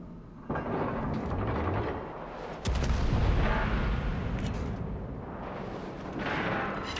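Heavy battleship shells firing and slamming into a ship in a naval warfare game, with deep booming reports and rumbling impacts rolling through a noisy battle backdrop.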